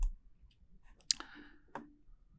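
Computer mouse clicks in Circuitmaker's tools menu: two crisp, sharp clicks about two-thirds of a second apart, each close and fairly loud against a quiet background.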